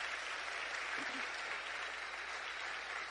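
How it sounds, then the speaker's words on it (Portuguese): Audience applause at a business talk, a faint, even patter of many hands clapping at a distance, steady for about three seconds with a brief murmur partway through. "Por isso quero que me deem a si mesmos um forte aplauso."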